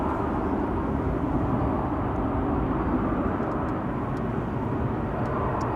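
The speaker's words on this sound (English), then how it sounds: "There's the A340 making its way over to the threshold of runway 24." An Airbus A340 taxis toward the threshold of runway 24 at Amsterdam Schiphol Airport, its jet engines a steady, broad rumble heard from a moderate distance.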